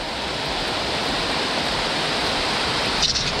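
Heavy rain pours down in a Jamaican forest, a dense, loud, unbroken hiss of falling water that holds steady throughout with no voices.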